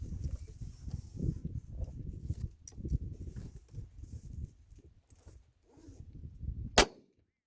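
A single sharp rifle shot from a Remington 722 chambered in .222 cracks out near the end, loud and close, following several seconds of low rumbling handling noise and wind.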